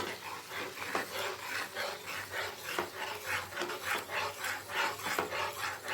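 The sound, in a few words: tomato puree being sautéed and stirred in a pan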